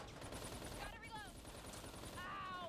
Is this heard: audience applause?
no